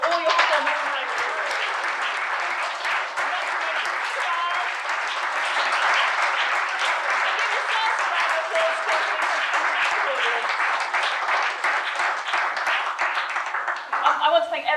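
A theatre audience at the Palace Theatre in Newark applauds the performers after a Comic Relief show, with sustained, dense clapping from a large crowd lasting about fifteen seconds and some scattered voices mixed in.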